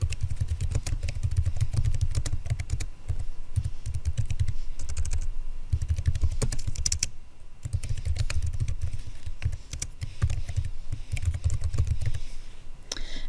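Steady, rapid keystrokes on a computer keyboard while an email is written in a message box, close and continuous with brief pauses, no talking.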